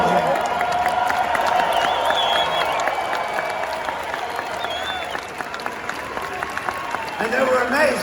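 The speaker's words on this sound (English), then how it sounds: "Give them a big hand." A big crowd at a rally claps steadily and loudly the whole time, with scattered cheers rising through the sustained applause.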